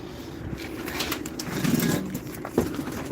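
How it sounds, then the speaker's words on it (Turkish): A pigeon cooing softly, low throaty calls, close by amid outdoor background noise. "Yanına bir de kuş geldi."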